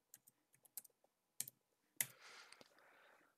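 A computer mouse clicks on a save icon in trading software, a scatter of sharp, quiet clicks followed by a brief louder burst that trails into soft noise, with no talking.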